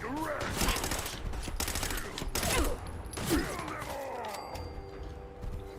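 Bursts of gunfire in the video game Fallout 4's Far Harbor area, repeated rapid shots and impacts with breaking debris over several seconds, fairly loud and close.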